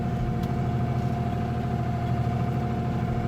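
A big tractor's engine runs steadily in a field, a loud, close, continuous low rumble with a constant hum and no talking.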